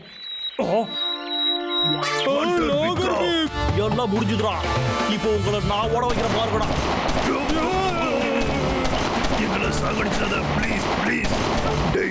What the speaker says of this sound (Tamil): உங்களை சுட்டு சுட்டு என் துப்பாக்கியில் இருந்த புல்லட் எல்லாம் காலியா போச்சுடா